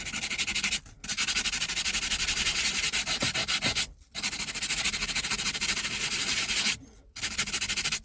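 Rhythmic rubbing of sandpaper on a Peugeot 106 steering wheel, steady back-and-forth strokes in three long runs separated by brief pauses, close and fairly loud.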